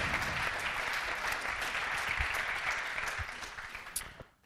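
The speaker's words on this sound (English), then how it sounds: "Please clap very loudly." A conference audience applauds, dense continuous clapping from a large crowd that holds steady and fades out at the end.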